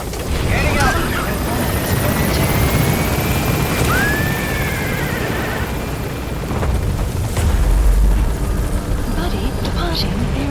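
A helicopter extraction lifting off in Metal Gear Solid 5: a loud, steady rotor roar with a rising whine, overlaid by radio chatter and game voices throughout.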